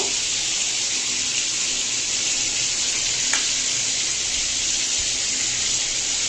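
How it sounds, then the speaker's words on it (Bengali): Lentil fritter batter drops into hot oil and fries with a loud, continuous close sizzle and crackle that holds evenly throughout, alone with no voices. "মাখার পরে তেল গরম হয়ে গিয়েছে, তেলে দিয়ে দেব। এর থেকে বড়া তৈরি করব।"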